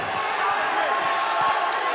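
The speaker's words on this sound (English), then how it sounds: "the crowd going crazy here for Cotelea" A boxing crowd roars and cheers steadily through a bout between Vasile Cotelea and Chris Melhuish, a dense, continuous wash of voices with a few dull thumps, while a commentator talks over it.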